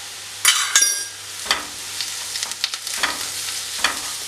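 Boiled potatoes with spices sautéing in a pan for a Kerala-style potato masala curry. Close, crackling frying is punctuated by repeated stirring scrapes and clinks, with no talking.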